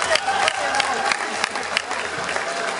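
A stadium crowd of baseball fans applauding and cheering for an Orix pitcher at his post-game hero interview, a dense, steady roar of clapping filling the whole moment.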